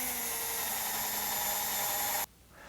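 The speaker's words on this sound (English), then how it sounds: "Drill my pilot hole." A power drill whines at high pitch while boring a pilot hole for a Hunter Douglas Duette honeycomb shade cord tensioner, running steadily for about two seconds before stopping abruptly.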